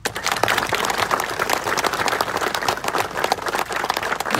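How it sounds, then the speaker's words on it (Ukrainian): Audience applause at a Ukrainian music show, dense continuous clapping from a large crowd, loud and steady throughout with no talking. "Ще раз вам мої оплески, мій уклін вам."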